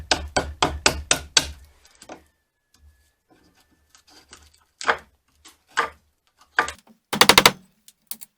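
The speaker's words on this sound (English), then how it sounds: "So I'm going to go ahead and tighten that down again and chisel that," A chisel is struck against a wooden crossbeam joint to flatten it, producing a quick run of five or six sharp, close knocks, then scattered single taps and a final rapid cluster of blows, with no talk.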